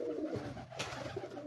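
Racing pigeons cooing on a rooftop, a few soft, low cooing calls close by over steady background noise, with no one speaking.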